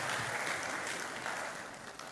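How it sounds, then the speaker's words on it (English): Graduation audience at a business school ceremony giving a round of applause, sustained even clapping from a large crowd, heard faintly at a distance. "Please, a round of applause for her once again"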